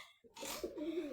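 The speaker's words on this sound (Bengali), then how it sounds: "আর এক জোড়া কবুতর নামবে।" A pigeon gives a short, soft, rolling coo close by while being fed, a brief throaty call over faint outdoor background noise.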